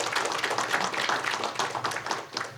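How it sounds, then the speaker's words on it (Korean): A forum audience claps to welcome a speaker at a discussion on ESG management and the public sector. The applause is dense and continuous, with many overlapping hand claps held at a fairly loud, even level throughout. "뜨거운 박수로 환영해 주시기 바랍니다."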